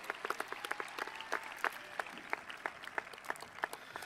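A graduation audience at Olathe West's 2023 ceremony applauds its top students with steady scattered claps from a mid-sized crowd, moderately distant and even throughout.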